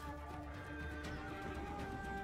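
Horse neighing with hooves clopping in the video game Crimson Desert, a steady whinny over continuous rhythmic footfalls and ambient game sound, no talking.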